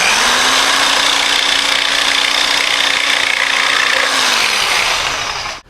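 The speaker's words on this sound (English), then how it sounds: "I just going to take the jigsaw into it" A jigsaw cuts freehand through crown molding with a loud, steady buzzing whine close by for several seconds, winding down abruptly at the end.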